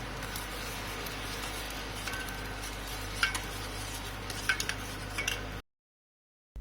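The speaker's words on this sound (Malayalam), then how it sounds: "നമുക്കിത് ചെറുതായി ഒന്ന് മിക്സ് ചെയ്ത് കൊടുക്കാം" Sugar syrup being gently stirred in a pan for a White Forest cake, with faint scattered clinks of a spoon over a low, steady background hum, followed by a sudden silence.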